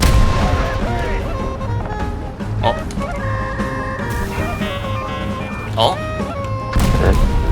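Cannon shots boom in a War Thunder battle, several sharp bursts spread over a few seconds amid game engine tones and beeping, with excited players talking over them.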